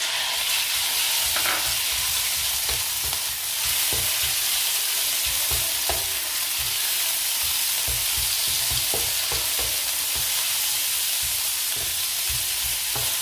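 Pork and garlic frying in oil in a pan, a steady close sizzle with frequent clinks and scrapes of stirring throughout, no voices.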